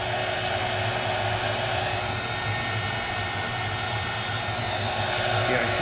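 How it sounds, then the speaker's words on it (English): A handheld heat gun shrinks heat-shrink tubing while an LED glow stick is being assembled, giving a steady, close, even blowing hiss that holds constant for several seconds. "And then we take our little heat gun or lighter."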